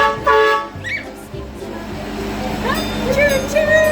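An amusement park ride train at a playland sounds a few short tooting horn blasts up close, followed by a rising, wavering whistle-like tone as the ride moves off, with voices and rumble around it.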